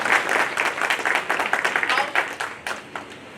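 An audience claps for Rasmani Didi at a recognition ceremony in Chaibasa, a dense, steady round of applause that tapers off toward the end.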